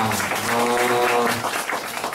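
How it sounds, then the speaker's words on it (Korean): Applause for a professor at a youth international forum: a short burst of broadband clapping from a seated audience, steady throughout, with a faint tonal hum running underneath. "다시 한번 정상인 교수님께 큰 박수 부탁드리겠습니다"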